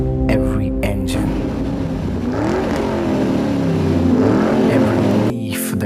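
An engine revs and roars in a short sound effect, a dense rising and falling drone building through the middle, with a whispered voice briefly over the start and end.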